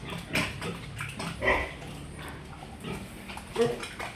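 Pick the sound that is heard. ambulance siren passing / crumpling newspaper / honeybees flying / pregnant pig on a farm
pregnant pig on a farm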